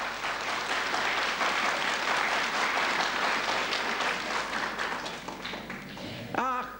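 Audience applause at a sermon, a dense, sustained wash of clapping from a crowd that gradually thins out, followed by a brief spoken voice at the end.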